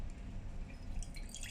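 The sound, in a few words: water dripping out through a funnel, oil left behind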